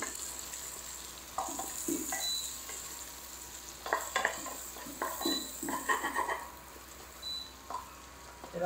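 Onion and green chilli frying in a pan, a soft continuous sizzle broken by intermittent spatula scrapes and light clinks against the pan, close but fairly quiet.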